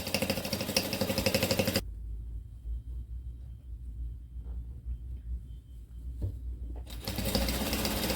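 A sewing machine stitches the folded hem of a lungi cloth, loud whirring runs at the start and end with a quieter low hum between, no talk.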